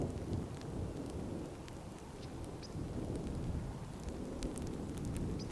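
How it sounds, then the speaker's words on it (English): Rain pours steadily in Colorado's San Juan Mountains while thunder rolls in a deep, continuous rumble, with no voices heard. "Watching thunderstorms roll across the San Juan Mountains was a reminder of how unpredictable the weather can be in the high country"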